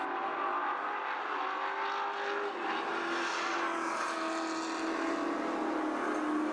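Racing trucks of the Northwest Tour Truck Series at Magic Valley Speedway roar steadily at close range, engines droning in a continuous loud wash that swells slightly as they pass.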